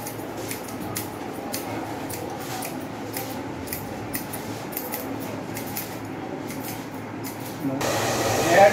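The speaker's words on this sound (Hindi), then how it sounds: "ये देखिए इनका बाल को कैंची द्वारा" Scissors snip through a man's hair at a barbershop, a quick run of crisp, close metallic cuts in a steady rhythm, before a louder steady whoosh takes over at the end.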